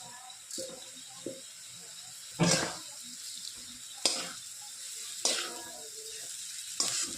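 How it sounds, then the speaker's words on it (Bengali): Maggi noodles stirred into a frying mixture in a pan, a soft low sizzle punctuated by four or five sharp scraping stirs spaced a second or so apart. "এখন ম্যাগি একটু একটু করে দিয়ে মিশিয়ে থাকবো।"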